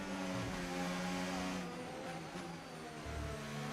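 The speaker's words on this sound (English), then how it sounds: "I can hear his engine." Formula 1 car engine in the F1 25 racing game, a steady high-pitched engine drone with shifting revs running throughout, fairly quiet and even, without talk.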